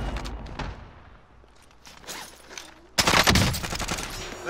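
Rapid video-game gunfire, a sparse burst early on and then a loud, dense fusillade of automatic shots crackling close by, with no talk over it.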